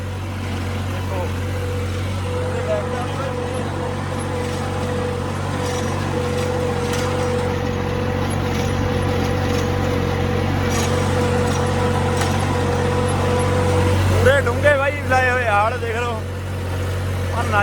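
A heavy tractor engine drones steadily at a low pitch throughout, straining while pulling a cultivator in a field, with brief vocal sounds near the end.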